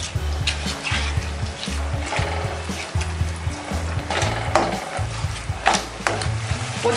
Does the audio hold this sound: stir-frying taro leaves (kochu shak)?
yes